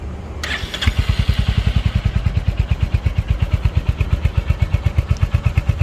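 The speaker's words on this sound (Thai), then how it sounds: "เดี๋ยวผมจะลองสตาร์ทเครื่องให้เพื่อนๆ ฟังเสียงกันนะครับ" A Royal Enfield Hunter 350 motorcycle engine cranks and fires up, then settles into a steady, loud, throbbing idle with a rapid even pulse.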